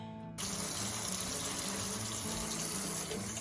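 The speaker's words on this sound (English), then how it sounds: "So I'm gonna rinse these in the sink and wash them off." Water runs steadily from a kitchen sink tap as eggs are rinsed, a sudden start followed by a continuous, close, even splashing rush with no talking.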